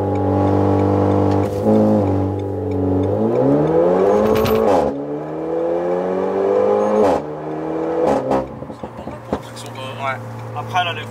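A Renault Megane 4 RS engine drones loudly and climbs in pitch through hard acceleration, dips at a gear change, then rises again before backing off, heard from inside the car with people talking over it.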